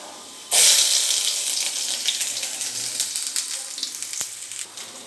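Chopped small onions, ginger and green chillies hit hot oil in a pan with a sudden loud sizzle that settles into steady crackling frying, with faint stirring and clinks, no voices.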